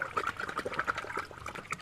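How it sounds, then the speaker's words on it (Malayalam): Rice water is strained and poured into a garden sprayer, giving a soft, quiet trickle that splashes continuously for a couple of seconds. "ഈ കഞ്ഞിവെള്ളം കൂടെ ഞാൻ ഇതിനകത്തേക്ക് അരിച്ചൊഴിക്കുവാണേ"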